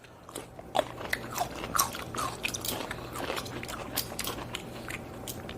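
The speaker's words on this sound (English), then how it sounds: "They're nice and crunchy and firm, which I really like texture-wise." Crunchy, firm pickles bitten and chewed close up, a series of crisp crunches and wet squishing bites over several seconds, fairly quiet and alone without talk.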